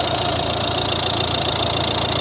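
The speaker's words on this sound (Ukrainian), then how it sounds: "ось робота двигуна, тихо, якісно" A 2012 Volvo V60 1.6 diesel engine idles close by, a smooth continuous rumble with an even mechanical hum and no breaks.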